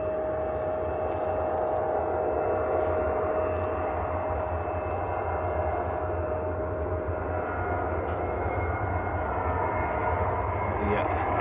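An Etihad Boeing 777 taxis out at Manchester Airport, its steady broadband jet engine rumble and whine continuous and fairly loud throughout, with a faint steady tone over it.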